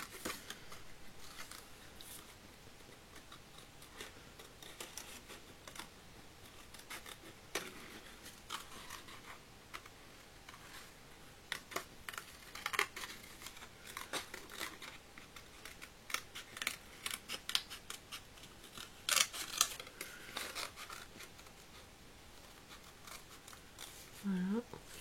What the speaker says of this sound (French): je vais venir redécouper un peu mieux aux endroits où je suis pas passée